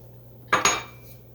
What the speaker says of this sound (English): to that I'm going to add the 1½ cups of granulated sugar